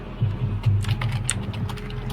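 Typing on a computer keyboard, a close run of quick, irregular key clicks and taps over a low background hum, with no voices.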